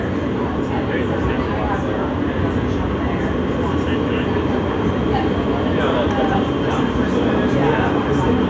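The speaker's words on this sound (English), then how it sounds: "This is a Nassau Avenue bound G local train." An R160 G local subway train bound for Nassau Avenue rumbles steadily throughout, a loud, even roar of wheels and car noise from on board, with a voice faintly present over it.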